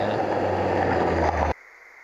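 A small Renault rally car charges through a creek crossing on Barrington East Road during a night rally, its engine roaring loud and close with water rushing and spraying for about a second and a half before the noise cuts off sharply.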